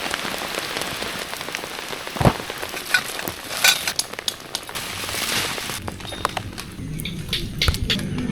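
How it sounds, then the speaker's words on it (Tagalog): Heavy rain pours steadily in a dense, hissing wash on a mountain campsite in Tanay, Rizal, with scattered louder drops and taps standing out near the microphone. "Lumalakas yung ulan, my God."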